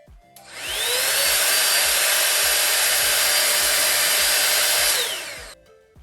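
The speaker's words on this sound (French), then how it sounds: "Je vais me sécher les cheveux" A cheap AliExpress copy of a Dyson Airwrap blows air to dry hair. The motor spins up into a steady, loud, high whirring airflow that holds for several seconds before winding down, with no one talking.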